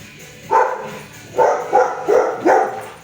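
A dog barks four times at a moderate distance, one bark and then three in quicker succession, over a quiet background hum.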